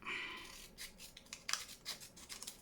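Scissors snip through paper while a junk journal pocket foldout is trimmed, giving a few close, crisp cutting strokes and rustles, quiet and with no talk.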